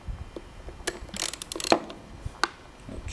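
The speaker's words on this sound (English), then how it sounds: "We're using an Allen type bit. Going to loosen it roughly four turns." A ratchet with an Allen bit loosens the buttstock retention bolt on an MKA 1919 shotgun, giving close, fast bursts of metallic clicking with short pauses between turns.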